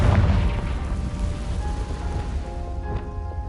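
Confringo fire spell exploding in Hogwarts Legacy on PS5, a deep boom that opens loudly and decays into a rumbling tail with faint tonal game shimmer, no talk.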